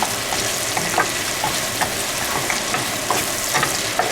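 Food is stirred in a hot pan with bacon and potatoes for a breakfast bowl, giving steady frying sizzle and repeated soft scraping strokes spaced about half a second apart, close and with no voices.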